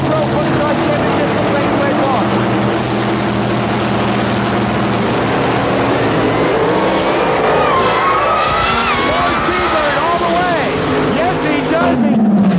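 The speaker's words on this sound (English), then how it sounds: "Alcohol funny car final here at the Cable Car Polaroid U.S. All-Pro funny car championship." Alcohol funny cars roar through a drag race final at the U.S. All-Pro funny car championship, a loud, continuous engine blast that fills the whole stretch with a rising pitch near the end, while an announcer talks over it.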